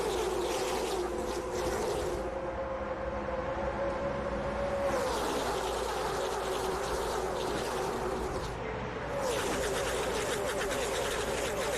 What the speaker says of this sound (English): Just get a pure sound of those cars